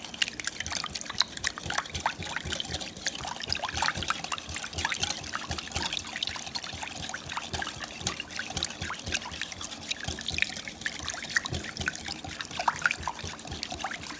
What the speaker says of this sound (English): you're going to whisk this together until it's smooth